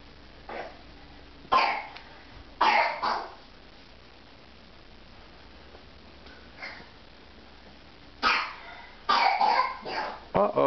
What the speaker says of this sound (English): who's coughing over there?